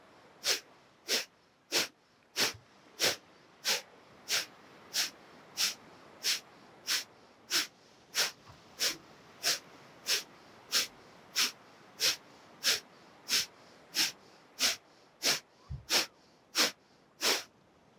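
Forceful rhythmic exhalations during a yoga breathing exercise, about thirty sharp nasal puffs in steady quick succession, close and clear over a quiet background.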